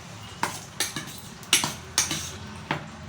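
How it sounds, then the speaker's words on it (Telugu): A spoon stirring tempering into gongura prawn curry, knocking against the pot in about seven separate clinks and scrapes at an irregular pace, close and fairly soft, with no talk. "ఇప్పుడు నేను వేసిన తాలింపు అంతా ఇందులో వేస్తూ మంచిగా కలిపేసుకున్నాను"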